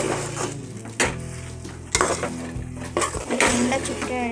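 A spoon knocks and scrapes around a pan while puffed rice is stirred in for laddu, with several sharp clanks against the pan over a continuous rustling, close by.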